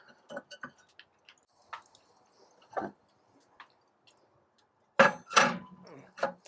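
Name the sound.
heat deflector racks being placed in a Primo grill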